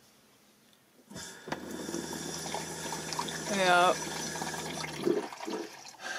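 Water runs from a newly installed RV kitchen faucet, a steady gushing stream that starts abruptly and continues for several seconds, with a brief voice and some clatter over it.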